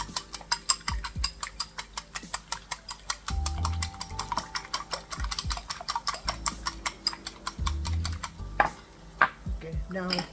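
Three beaten eggs stirred and flipped in a pan for egg bhurji, giving a rapid run of close, sharp scraping and clicking strokes with steady rhythm and a few louder knocks near the end.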